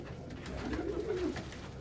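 A hand-raised pet pigeon named Puddin coos steadily and softly up close, a low continuous rolling coo with no talking.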